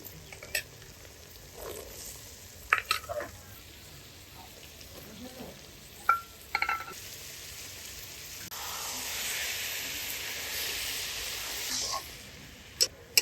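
Boiled peas being stirred into a spiced mixture in a pan while making ghugni, with scattered scraping clicks of a spoon over a steady sizzle that swells louder in the second half.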